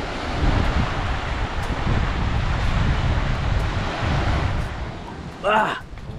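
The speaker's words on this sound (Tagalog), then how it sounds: "Medyo maalon-alon lang." Sea waves and wind on a shore make a steady, loud rush with heavy wind buffeting on the microphone, and a brief voice cuts in near the end.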